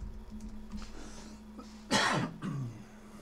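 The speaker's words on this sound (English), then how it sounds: "Sorry for the coughs there." A person clears their throat a few times and then gives a sharp, loud cough followed by a shorter second one, close to the microphone in an otherwise quiet room.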